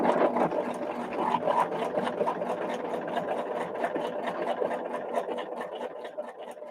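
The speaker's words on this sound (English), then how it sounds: "So I'm going to put this under my machine. Sew on the line." A sewing machine with a quarter-inch foot stitches along the line of a foundation paper-pieced quilt block, a steady close whirring run with rapid needle pulses and no talk.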